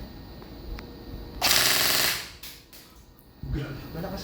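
A firearm fires a single short, loud, close burst on full auto, with people talking before and after it.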